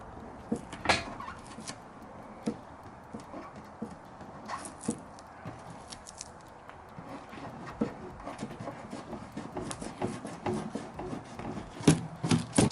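Foam-tape sticker peeled by hand off a salvaged part from a wrecked Toyota, heard close up as scattered rubbing scrapes and sharp tearing crackles that grow denser toward the end.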